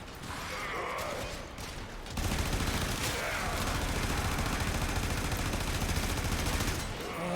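Sustained heavy gunfire in the sci-fi shooter Warframe, a dense, continuous clatter of rapid shots that grows louder partway through and holds steady, with mechanical clanks mixed in.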